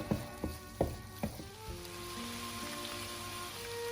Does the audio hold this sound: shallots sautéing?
yes